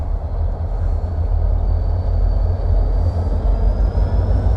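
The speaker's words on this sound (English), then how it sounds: "Choo-choo train." A train rumbles past close by on the Oregon Trail route at about 3,800 feet elevation in a loud, steady roar, with a faint high whine rising and falling above the heavy low rumble.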